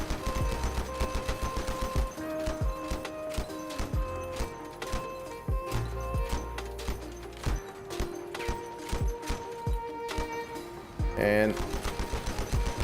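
Rapid bursts of weapon fire in the vehicle combat game Crossout, loud, dense volleys hammering through most of the stretch with a brief heavier blast near the end, while a player talks over the action.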